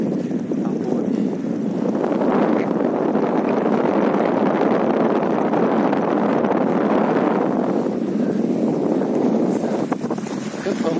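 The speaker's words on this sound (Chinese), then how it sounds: "吹着海风" Sea wind gusts at a small fishing harbour on Ishigaki Island, a loud, steady rumbling roar buffeting the microphone throughout and swelling through the middle.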